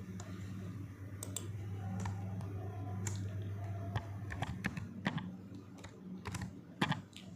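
Keyboard typing on a computer while modelling MnO2 and Fe2O3 structures in VMD software: a low hum underneath scattered, fairly quiet key clicks that come in irregular bursts, with no speech.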